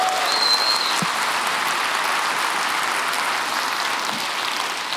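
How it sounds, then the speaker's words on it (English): Steady applause from a large audience at the 2018 Eve Online gaming keynote, a dense continuous wash of clapping that holds evenly for several seconds. "Give yourselves a round of applause."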